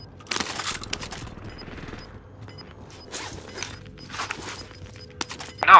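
Light machine gun fire sounds in a Call of Duty Modern Warfare match, with several short sharp bursts spread apart among quieter clatter and footstep-like noises, and a louder hit at the very end.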